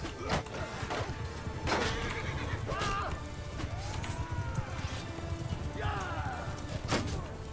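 Horses in the game Bannerlord neigh and whinny repeatedly over pounding hooves and battle clatter, several loud rising-falling calls standing out across a busy, continuous melee.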